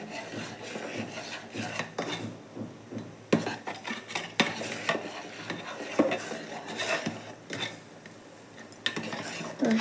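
Sambar with masala and turmeric powder being stirred in a pan, a steady run of metal-on-pan scraping and clinks with irregular rhythm, close and moderately loud, with no talk.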